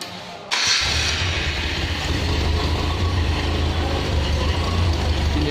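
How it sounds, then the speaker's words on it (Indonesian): A car engine cranks and catches during a tune-up check, a sharp mechanical rattle giving way to a steady, loud running drone that continues to the end, with no voices. "Kita hidupkan mesin."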